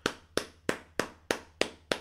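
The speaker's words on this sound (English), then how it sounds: "Round of applause again." A round of applause made of seven sharp, evenly spaced hand claps, close and crisp, standing alone with no talking over them.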